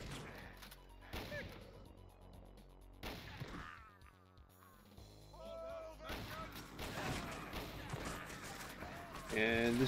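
The super shotgun firing in Doom 2 on a Zeppelin Armada megawad map, several heavy booming blasts spaced apart amid other game effects and music.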